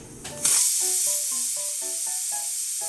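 A pressure cooker in a home kitchen vents steam, breaking into a loud, steady hiss about half a second in that carries on to the end, with faint tonal notes beneath it.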